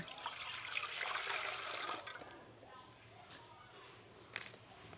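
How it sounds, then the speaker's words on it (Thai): Water pouring into a pot while making Thai coconut jelly, a steady hissing gush for about two seconds that then stops, leaving quiet room sound with a few faint knocks. "เทน้ำลงไปนะคะ"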